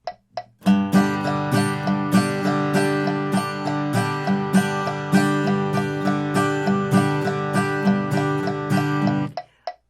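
Acoustic guitar strummed in a steady, driving rhythm at a fast tempo of 200, with evenly spaced accented strokes throughout and a clean ending, played alone without talk.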